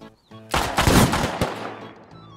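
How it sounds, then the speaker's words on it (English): Gunfire in the survival game Rust: a quick cluster of loud, close shots bursting together, then tailing off into a fading echo. "I'm shooting with my eyes closed."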